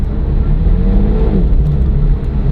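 A Porsche 911 with a manual gearbox pulls away in second gear as the clutch is slowly released, giving a steady, loud low engine drone heard from inside the cabin.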